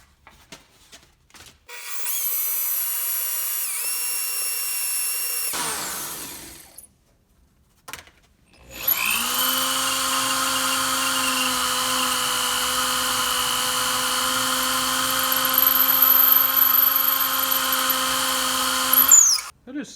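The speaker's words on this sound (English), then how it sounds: "put it in the drill, piece of sandpaper." A power drill whines at high speed in two long runs, with a scratchy rubbing hiss as a piece for a homemade baby rattle, chucked in the drill, spins against sandpaper.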